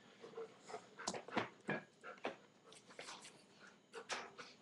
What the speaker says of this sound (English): Comes my annoying dog.